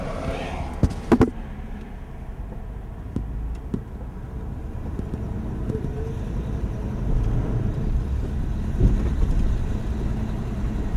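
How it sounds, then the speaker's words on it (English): A 1947 Cadillac on the move, its engine droning low and steady from inside the cabin, with a few soft clunks near the start as the transmission shifts and the running note swelling slightly toward the end. "I'm going to show you one of these transmission shifts."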